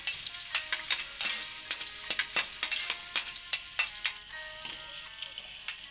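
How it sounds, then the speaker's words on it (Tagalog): Garlic sautés in two tablespoons of cooking oil for pork pansit guisado, a continuous sizzle under repeated sharp clicks and taps of a utensil against the pan, close and fairly loud. "Igigisa lamang natin ang bawang sa 2 kutsarang mantika"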